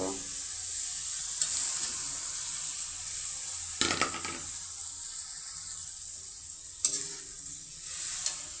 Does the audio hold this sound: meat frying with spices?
yes